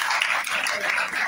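An audience claps to welcome the speaker at a lecture against dowry, a dense continuous patter of many hands filling the whole brief moment at even strength.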